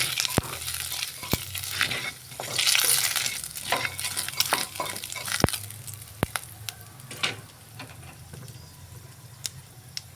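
Panch phoron spices fry in oil in a pan, with a steady sizzle broken by sharp clinks and scrapes of the utensil.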